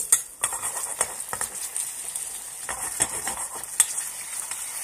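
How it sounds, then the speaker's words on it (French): A pineapple slice being dipped and turned in cinnamon caramel in a pan, with a steady soft bubbling sizzle broken by repeated light clinks and scrapes of a utensil against the pan. "On coupe et là on trempe la tranche d'ananas."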